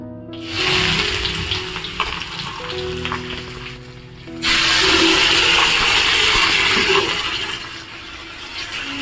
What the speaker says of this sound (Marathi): कांदा आणि टॅमॅटो पण परतून त्याच्यामध्ये